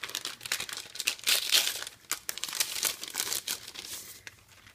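Paper die cuts pulled out of their plastic packaging from a planner kit, making close, irregular crinkling and rustling with a few sharper tearing crackles.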